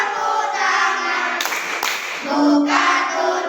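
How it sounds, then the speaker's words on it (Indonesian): Children in a classroom ice-breaking game clapping their hands together, a fast burst of many claps from a group in the middle, with chanting voices before and after. "bertepuk tangan"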